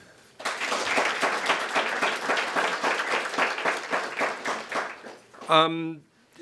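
Summit audience breaks into enthusiastic applause, dense rapid clapping from many hands lasting several seconds before fading, followed by a brief spoken voice at the end.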